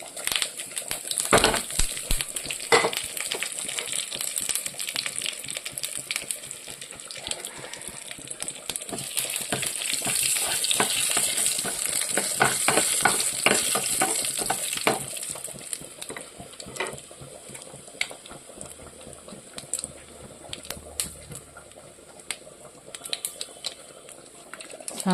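Mustard seeds, dried red chillies and curry leaves hit hot oil in a small pan for a Kerala sambar tempering, with a sustained hiss and a scatter of sharp pops and crackles that ease off toward the end.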